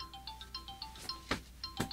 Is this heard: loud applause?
no